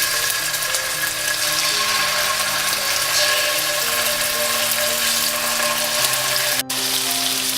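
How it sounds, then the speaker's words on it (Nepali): Chicken pieces fry in hot oil, giving a continuous sizzling hiss with crackling over a faint steady background hum, one brief dropout near the end. "तेल तात्न थालिसकेपछि अब यसमा चिकन राख्दै जाउँ"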